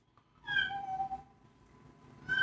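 A cat meows in two drawn-out calls, the first long and clear, with a short start of another call at the end, heard close and alone with no talk.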